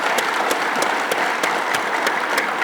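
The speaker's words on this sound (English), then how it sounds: "let's give you a big applause for the institution" Audience at a graduation ceremony applauds in a large hall, steady dense clapping with a few sharp louder claps standing out.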